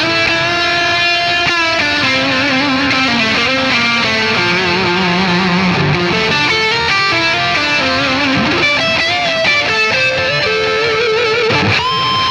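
Electric guitar played through Donner mini delay and distortion pedals, a sustained distorted lead line with long echoing repeats trailing each note, bright and loud throughout with no voice.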